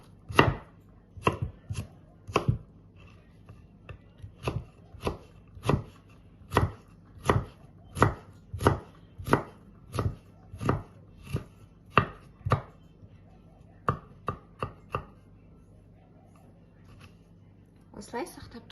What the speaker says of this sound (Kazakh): Картопты тез пісу үшін сақтап төртбұрыштап турап аламыз.